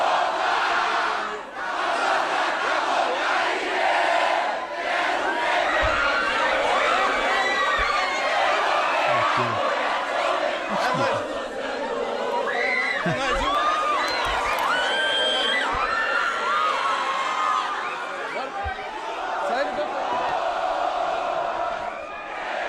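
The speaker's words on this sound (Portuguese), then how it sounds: "sobe o som aí pro torcedor do Grêmio, fazendo festa" Grêmio supporters give a loud, sustained roar as they welcome the player Luan back, a dense crowd of shouting, chanting and whooping with scattered claps and bangs throughout.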